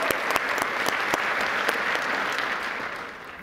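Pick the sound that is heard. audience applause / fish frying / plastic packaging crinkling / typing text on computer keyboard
audience applause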